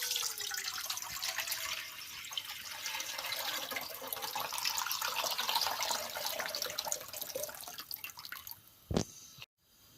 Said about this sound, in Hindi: 6 कप पानी के पैन में डाल देते हैं।